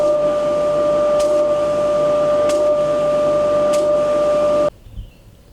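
A homemade dust collector system runs with a loud, steady motor drone and a strong tonal hum, then cuts off abruptly near the end, leaving near silence.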